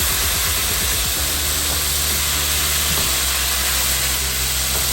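Top sirloin steak browning in a Farberware non-stick skillet, giving a loud, constant sizzling hiss with no one speaking over it.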